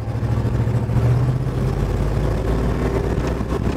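A 1950 Chevrolet panel truck's engine runs while driving, a steady, close, fairly loud drone with an even hum and no pauses.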